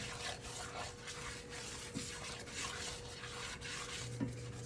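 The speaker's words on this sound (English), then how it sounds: "you have to keep stirring it, guys" Butter and seasonings are stirred in a pan for mac and cheese, making a faint, continuous scraping and rubbing with a steady, repetitive rhythm.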